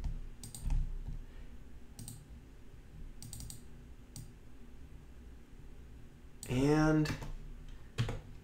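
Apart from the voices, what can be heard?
computer mouse and keyboard clicking in Synfig Studio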